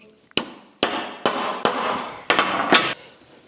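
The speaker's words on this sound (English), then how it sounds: "Tap it with the hammer. And then set it with the chisel." A hammer strikes a clip and chisel on a Scout drive shaft, giving six sharp metallic taps in an uneven rhythm, close and loud, with short ringing after each, and no voices.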